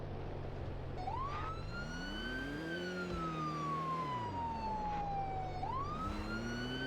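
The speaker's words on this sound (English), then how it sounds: "Switch on the flasher and siren." A video game police car siren wails loudly and continuously, its pitch sweeping slowly up and down in long cycles over a low engine hum.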